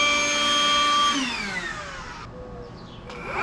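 A Ryobi 18V jet fan blower runs with a loud, steady high-pitched whine. It then winds down, its pitch sliding lower as the motor slows, and a brief whir returns at the end.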